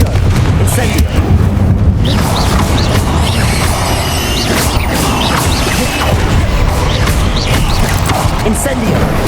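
Spell explosions cast in the Hogwarts Legacy video game, a dense, continuous barrage of loud booms and crackling blasts that barely lets up, with voices mixed into the din.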